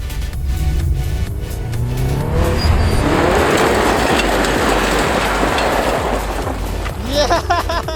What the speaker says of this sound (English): John's gonna try to drift this corner